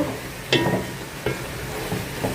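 Chicken and vegetable curry cooking in a pan, a soft sizzle broken by a few spoon scrapes and stirs at irregular intervals.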